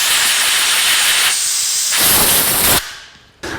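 Compressed air blasts loudly through a cut transmission cooler hose on a 1949 Chevrolet gasser, clearing out rubber debris. A strong, steady hiss shifts in pitch across two long bursts, then cuts off, and a brief final puff follows.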